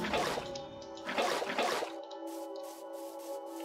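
Water is placed in a Star Wars-themed video game, heard as a few short splashy sloshing bursts followed by a lighter, quieter liquid shimmer.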